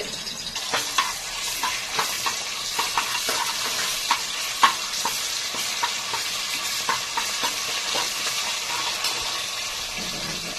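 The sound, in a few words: ginger garlic paste frying in hot oil in a pressure cooker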